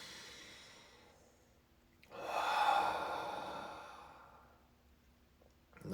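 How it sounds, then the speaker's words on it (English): A deep breath during guided meditation, a slow audible inhale then a long breathy exhale, close and alone in a quiet room. "One more big breath."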